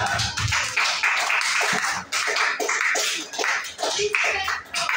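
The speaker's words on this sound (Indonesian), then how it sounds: "tepuk tangan buat kelompok 3" Schoolchildren in an Indonesian classroom applaud a group, giving several bursts of dense hand clapping that stop and restart, loud and close, with no talk over them.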